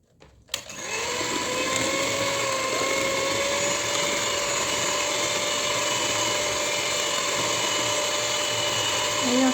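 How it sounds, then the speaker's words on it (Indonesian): An electric mixer whirs at low speed in a steady, high-pitched drone that holds continuously after it switches on, loud and close, with no talk over it. "lanjut saya akan mixer kembali"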